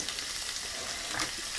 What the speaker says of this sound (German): Und dieses Hackfleisch werde ich jetzt erstmal anbraten.